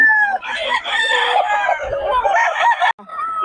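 A gamefowl rooster, a two-year-old Sweater bloodline bird, crows loudly and close in one long drawn-out call, with clucks and other fowl around it.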